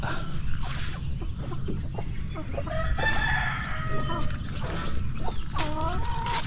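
Chickens in a backyard poultry yard, with turkeys and geese also kept, cluck and call in short repeated bursts, with a rooster crowing and a steady background of insects.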